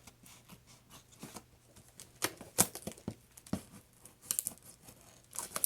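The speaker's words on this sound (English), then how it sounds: "we are going to cut open the box" Scissors snipping and tearing through cardboard in short irregular cuts, close and crisp, with scattered crinkling between strokes.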